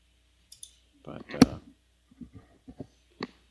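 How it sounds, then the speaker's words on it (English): Sharp mouse-like clicks sound in the background, a few scattered taps spread over a few seconds alongside some brief murmured vocal sounds, fairly close and distinct. "I hear this like clicking"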